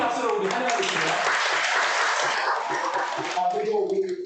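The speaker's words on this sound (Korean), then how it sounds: "우리 큰 박수로 우리 환영하겠습니다" A church congregation applauds to welcome elderly guests from a nearby senior center on Parents' Sunday, steady clapping filling the room for several seconds before tapering off near the end, with talk mixed in.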